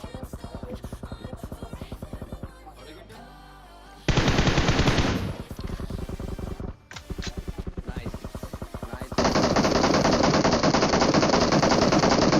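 Automatic gunfire in the mobile battle royale game PUBG Mobile: loud, rapid bursts of machine-gun fire, several seconds long, separated by short pauses, with a burst of dense, heavy firing toward the end.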